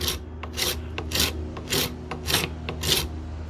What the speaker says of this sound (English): I've put it in a vise, and now I'm just using a rasp